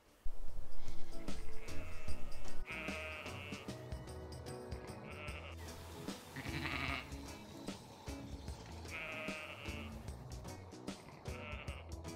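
Ewes and their lambs bleat repeatedly in a paddock, with calls at different pitches overlapping near and far above a low background rumble.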